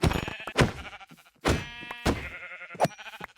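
Minecraft sheep bleat several times, loud and near, each call a separate wavering cry with short gaps between them, and no speech.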